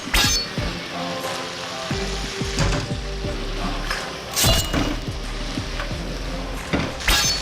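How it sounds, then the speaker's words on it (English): Pork and cabbage fry on high heat in a pan, giving a loud, steady crackling sizzle with sharp clatters of a utensil stirring and tossing at close range. "add meat and cabbage and fry them all for a bit"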